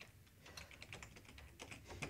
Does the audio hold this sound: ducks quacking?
no